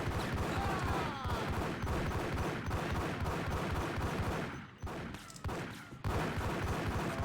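Rapid gunfire from the PC game Max Payne on Fugitive difficulty, dense bursts of shots crackling continuously with a brief lull near the end before the shooting resumes.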